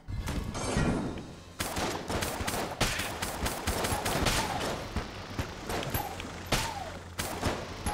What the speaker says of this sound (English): I might want to shoot him in the face